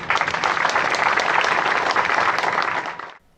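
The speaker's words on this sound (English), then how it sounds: "Let us give hand claps to Dr. Bertram and Austria as a country" Audience hand claps at an inauguration ceremony, a full round of steady clapping that holds evenly, then cuts off abruptly near the end.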